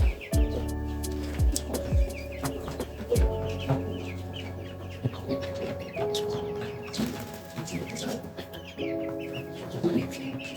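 Broiler chickens in their fifth week cluck and chatter close by, with repeated short calls and occasional louder squawks over a steady background hum.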